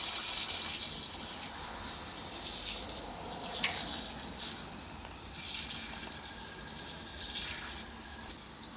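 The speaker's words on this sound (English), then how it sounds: "I'm going to go ahead and use this pump to de-ice that compressor" A pump sprays water onto an iced-up cold room compressor, making a continuous close hiss and gush that swells and eases slightly.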